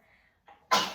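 A short intake of breath leads into a single sharp, close sneeze.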